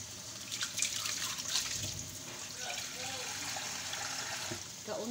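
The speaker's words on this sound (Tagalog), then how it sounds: "Lagyan natin ng tubig." Water pours and splashes into a cooking pan of mussels, a steady running stream with a few drips over a sizzling background, while someone talks.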